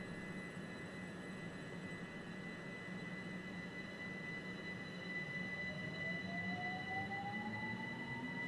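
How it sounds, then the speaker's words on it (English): A Class 375 electric multiple unit pulls away from Ramsgate in a train simulator game, its traction motor whine slowly rising in pitch over a steady low rumble, with no voices. "let's just take another look at the train and depart and head out on our journey towards London Victoria"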